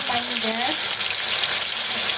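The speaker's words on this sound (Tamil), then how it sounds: "இதுக்கு தேவையான தண்ணி விடாங்க தண்ணி விட்டுட்டு" Water poured into a cooking pot while making fish curry, a steady rushing splash heard close up with a brief voice-like tone near the start.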